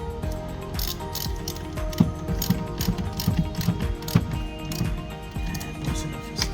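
A Porsche 911 car battery terminal is tightened by hand, with a run of small, close metallic clicks and ratcheting taps repeating in a steady pattern. Nobody speaks over it.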